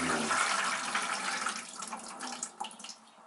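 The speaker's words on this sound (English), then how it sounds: "you can hear the pump shut off. It's pretty loud though" Fresh-water pump in a tiny-house school bus conversion running loudly with rushing water, then trailing off and cutting out toward the end, leaving a quieter tail.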